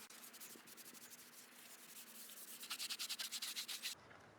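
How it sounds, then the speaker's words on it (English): Scouring pad scrubs a dusty, rusty wheel in rapid back-and-forth strokes, quiet and close, speeding into a brisk rhythmic burst before stopping abruptly. "these scorcher pads are great for breaking down all this dust and rust on the inside of this wheel"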